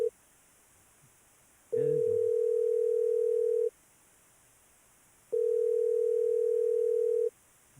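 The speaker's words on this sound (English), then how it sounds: "I guess I better call her cell phone because she don't ever answer her home phone" Repeating ringback tone on a call placed to a cell phone: two long steady electronic tones, each about two seconds, separated by a pause of silence, loud and clear with no talking.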